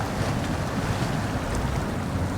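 A heavy truck in the SnowRunner off-road game, fitted with a high snorkel, ploughs into deep water, giving a steady, dense wash of churning water and rumble with no talk.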